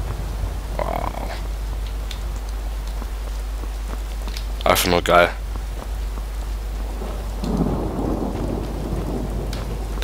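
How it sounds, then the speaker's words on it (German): Steady rain patters on surfaces while low thunder rumbles in the game The Elder Scrolls V: Skyrim, with a brief sharp crack midway; someone speaks briefly over the storm. "Ich gehe einfach mal weiter und es regnet."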